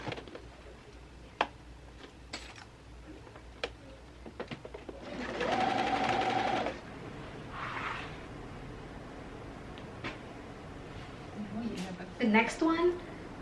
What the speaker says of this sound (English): Sew it all the way around.